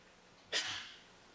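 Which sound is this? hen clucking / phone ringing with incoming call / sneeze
sneeze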